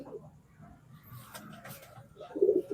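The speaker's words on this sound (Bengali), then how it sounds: "সুন্দর কোয়ালিটির পায়রা একটা দেখো" A good-quality show pigeon from an old breeding bloodline gives a short, fairly close coo near the end, after a stretch of faint low background murmur.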